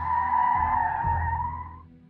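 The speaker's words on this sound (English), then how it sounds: "I hear car tires." A sustained car tire screech in the Roblox game Bloxburg rings out for about two seconds, steady then fading, with a low rumbling engine-like thud partway through.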